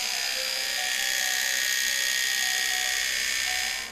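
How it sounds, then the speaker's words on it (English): A battery electric toothbrush running steadily as a high, buzzing whine with a constant tone, close and continuous for several seconds before cutting off at the end, with no talk. "one of that is electric toothbrush"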